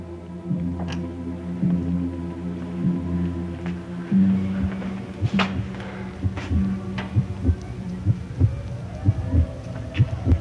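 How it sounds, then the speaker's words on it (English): Low, thumping heartbeat sound effect from a TV drama, pulsing steadily for about ten seconds and shifting in tone partway through, with sharp clicks and thuds scattered over it and no one speaking. "The heartbeat."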